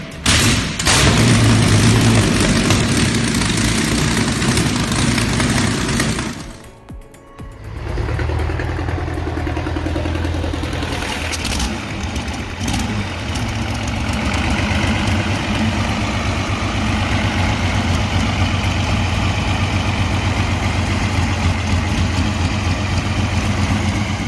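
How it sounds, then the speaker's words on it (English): Vintage 27-liter V-12 diesel tank engine from a T-55 roars loudly, dips briefly, then settles into a steady, heavy, rumbling idle that continues alone. "A deep, thunderous roar bursts from its 27-liter heart of steel."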